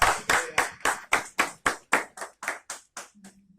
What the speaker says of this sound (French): Un bel applaudissement pour pouvoir, mon Dieu